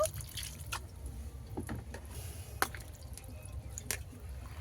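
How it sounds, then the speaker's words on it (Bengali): Soft drips and small splashes come from pumpkin flowers being rinsed in a bowl of water, with several distinct watery plinks over a quiet background hum. "জল পাল্টে আবারও একবার জল দিয়ে ধুয়ে নেব।"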